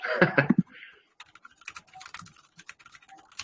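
A burst of talk at the start, then light, scattered clicks of typing on a computer keyboard, close but faint and irregular.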